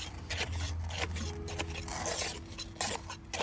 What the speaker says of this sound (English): So round jointing is scraping the concrete off